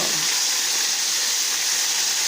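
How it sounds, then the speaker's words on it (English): Continuous close hissing sizzle of chicken frying in a modest amount of oil, steady and fairly loud from start to finish. "See, it's frying."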